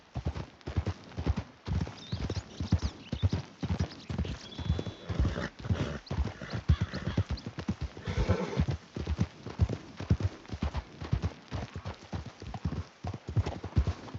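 Horses gallop with steady, rapid hoofbeat clip-clop and occasional neighing in Red Dead Redemption 2, the hooves loud and continuous throughout with no talk.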